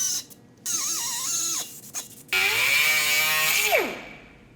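A metal rod is cut to length while held in a vise for a TIG-welded towel rack, producing loud, close whining and screeching bursts with rising and falling pitch and short pauses between cuts.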